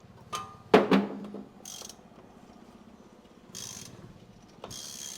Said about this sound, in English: And let's put this wrench on it.